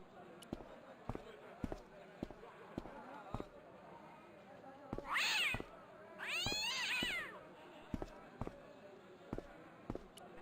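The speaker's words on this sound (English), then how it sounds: "The cat was an ugly brute who looked like he owned the joint." A cat in the Broken Sword game lets out two drawn-out, wavering meows, loud and close, between regular sharp ticking or tapping sounds.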